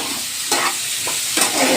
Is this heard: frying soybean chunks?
yes